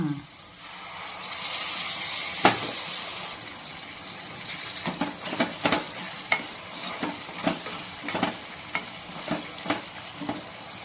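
Tamarind water pours into a hot pan with a loud burst of sizzling, followed by a series of rhythmic stirring scrapes over a softer simmering hiss.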